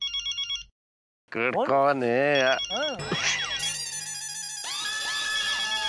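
An electronic phone ringtone trills, then stops; a brief pause is followed by a jaunty melodic ringtone playing loudly while a voice speaks briefly.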